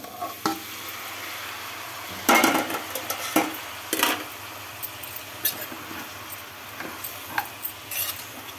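Cooked broad bean curry being stirred in a pan with a spoon, giving intermittent scraping and clinking strokes over a faint sizzle, close and moderately loud, with no talking.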